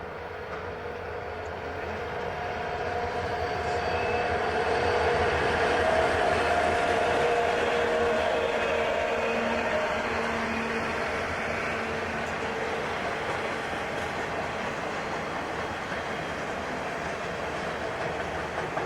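Florida East Coast northbound intermodal train number 224 passes at St. Augustine, a steady, loud broadband rumble of rolling cars with faint rhythmic wheel clatter that swells in the middle and holds to the end.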